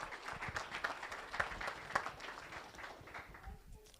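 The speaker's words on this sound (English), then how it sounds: "Let's give Jacoby a round of applause." Guests at a Thunder Hill Speedway racing banquet give a track volunteer a round of applause, quiet, scattered clapping from a modest room with a few sharper individual claps standing out before it tapers off.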